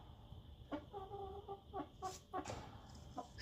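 A young cockerel chick, hatched in late February and of a heavy breed line expected to exceed five kilos, clucking in a short series of close, fairly quiet calls over low background noise.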